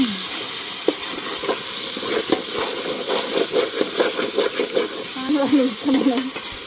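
A kilo of cooked meat for biryani sizzles in separating oil while being stirred, giving a constant hiss with scraping and clacking strokes. A faint voice surfaces near the end.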